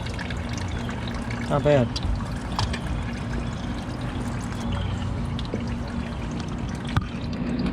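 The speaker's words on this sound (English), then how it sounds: "As I'm pouring it, I can see all the dirt coming off of it." BlueDevil radiator flush is poured into a Honda Civic radiator, a soft liquid trickle and gurgle running under a voice, with a few light clinks and handling noises.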